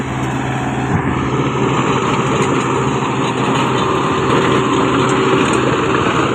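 A Kubota MU 5502 tractor engine runs steadily at about 2000 RPM in a low gear, a loud continuous droning hum with no talk over it.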